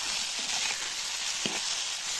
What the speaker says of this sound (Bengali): আমি এখন বেগুন ভাজিটা দেখে নিব।